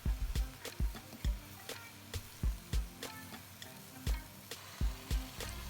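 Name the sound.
vegetables sautéed in butter with garlic and onion, stirred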